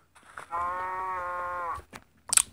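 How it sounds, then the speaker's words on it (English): A loud, drawn-out cow moo from Minecraft Pocket Edition lasts about a second, followed by a few brief in-game clicks and rustles. "That cow was loud."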